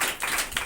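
A congregation claps hands at a Sunday church service, a brief dense burst of many overlapping claps close by.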